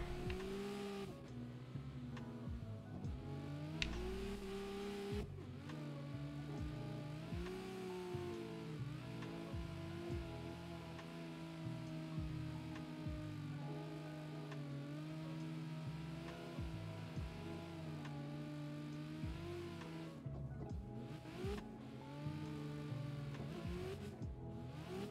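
A Mazda RX-7 engine in a racing video game drones and revs continuously, its pitch rising and falling with gear changes and acceleration, steady and fairly loud with no talk over it.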